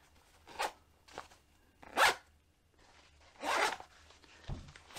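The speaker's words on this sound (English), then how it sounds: "And we've got two way zippers, so we've got the two pulleys." Two-way zipper pulls on a Helikon Tex Mini Service Pocket Pouch being worked, several short quiet zipping rasps and rattles spaced apart, close by with no talking.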